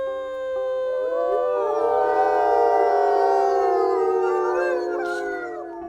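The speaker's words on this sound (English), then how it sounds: "Let's go ahead and do a howl." Wolves in a wolf pack video game howl together, several long rising and falling tonal howls layered over each other, loud and sustained with no talking.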